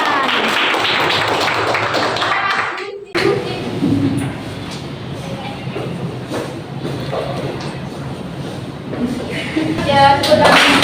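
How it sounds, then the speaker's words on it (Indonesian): Students at a school health talk clap their hands together in a broad, steady round of applause that fills the room, briefly dropping away before resuming under general chatter. "Ya, tepuk tangan."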